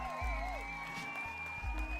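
Audience applause for a Capoeira performance at a Week of Imani event, a steady wash of clapping running the whole time, with tonal whistles and voices mixed in.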